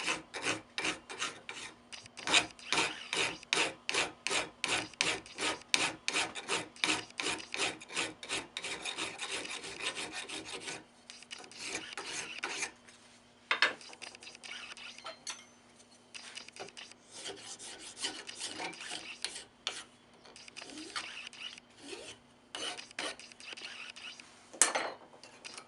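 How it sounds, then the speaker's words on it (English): A metal file rasps across the top of a cork in rapid, even back-and-forth strokes for about ten seconds, then slows into scattered, irregular scrapes and rubs, close and clear with no talking. "And file the top smooth."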